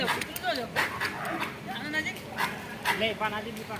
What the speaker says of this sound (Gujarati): અહીંયા વાંદરા અને કૂતરા લડી રહ્યા છે